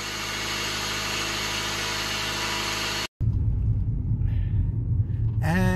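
A 1997-2000 Honda Civic engine running after a knock sensor replacement: a loud, steady close-up rumble that cuts off briefly, then returns as a lower idle with some handling noise.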